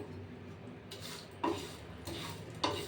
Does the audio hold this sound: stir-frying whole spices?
yes